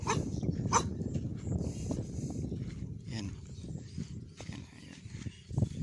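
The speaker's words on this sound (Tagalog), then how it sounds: "makikita yung kinakawal pa tayo ng aso. Yan guys, nangangahol pang kaso." A dog barks in short repeated bursts near a seaside oyster-gathering spot, rough and fairly close, mixed with wind and outdoor noise while someone talks.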